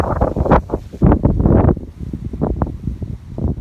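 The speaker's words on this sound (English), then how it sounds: "Sorry, it's a bit windy." Loud, gusty wind buffets the microphone in rumbling bursts that rise and fall, close and heavy.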